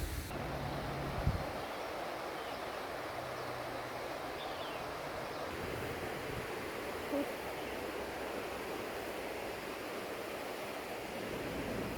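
Steady broadband rush of a river flowing in Riche Fond, Saint Julien, Mauritius, continuous and fairly faint, heard from a short distance with no voices.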